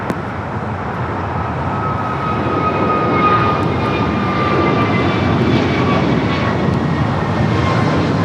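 An airplane, flight 6381, takes off from runway 25 right at LAX: a loud, continuous engine roar that holds steady and swells slightly as the aircraft powers down the runway.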